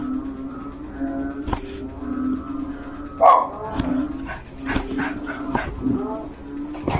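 A dog barks and whimpers intermittently, a few sharp yips popping out over a steady background hum and some clattering.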